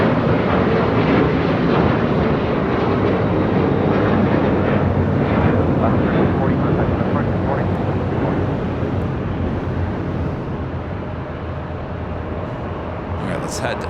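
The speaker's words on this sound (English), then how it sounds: "Alaska Airlines flight 1340 heading to Cancun, a 737-900ER taking off here on the south side and 25 right" An Alaska Airlines Boeing 737-900ER takes off from LAX's south-side runway 25 right, a loud broad engine roar that holds steady and then eases slightly as the jet climbs away.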